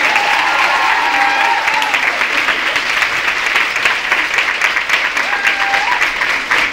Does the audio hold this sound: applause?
yes